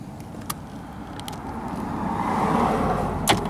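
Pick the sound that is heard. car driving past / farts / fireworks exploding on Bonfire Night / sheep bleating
car driving past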